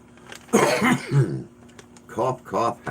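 A voice coughs, hacks and clears its throat in several raspy, voiced bursts, close up, with short pauses between them; the sounds may be partly imitated rather than genuine coughing.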